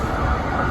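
A MAX light rail train rumbles steadily from inside the car, a loud continuous low roar with a faint high whine above it and no voices.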